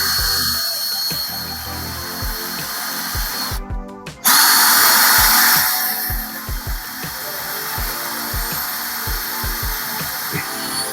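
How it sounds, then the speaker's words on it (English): A power drill bores screw holes while mounting an outdoor electrical outlet, whirring in repeated short bursts with one loud sustained run near the middle, close by. "Okay, so you want to drill"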